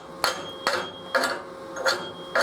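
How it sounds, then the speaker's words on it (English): A chipping hammer strikes plasma-cut steel to knock off dross, giving five sharp, close metallic taps about half a second apart, each with a short ringing tail. "We can clean that up with a chipping hammer."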